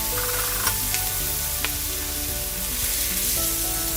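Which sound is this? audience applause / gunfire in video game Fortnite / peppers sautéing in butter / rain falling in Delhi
peppers sautéing in butter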